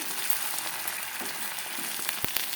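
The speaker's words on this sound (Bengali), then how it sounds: "ডিমটা দিয়ে একটু নাড়াচাড়া করলাম" A whole egg fries in hot oil, giving a steady soft sizzle with a few brief scrapes near the end as it is stirred.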